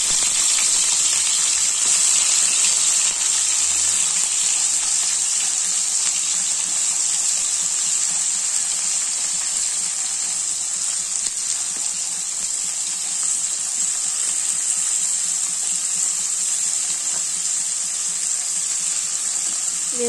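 Salted dried fish (uppu karuvadu) fries in hot oil with a steady, loud broadband sizzle and hiss that runs continuously and evenly throughout, with no speech over it.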